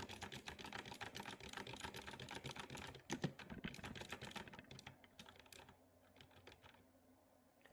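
Rapid, dense keyboard typing clatters steadily for about five seconds, then thins into sparse, scattered keystrokes before falling nearly silent, all close and with no voices.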